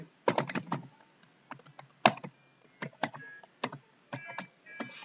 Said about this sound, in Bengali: এখন আমরা এন্টার প্রেস করবো।